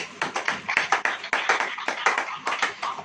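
A church congregation claps together in a Hindi-language worship service, a dense, fairly steady run of many hands with uneven rhythmic accents, close and loud, continuing throughout without talk over it.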